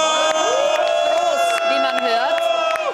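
A crowd celebrating at the FPÖ election party for the 2024 EU election fills a packed venue with loud, steady cheering and sustained voices, with whistle-like tones cutting through the din.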